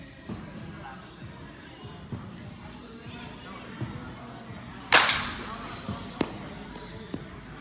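An ASA Monsta Unleashed Sinister 25 oz softball bat strikes a ball with a single sharp, bright crack amid a noisy outdoor field, with people talking around it and a few softer thumps.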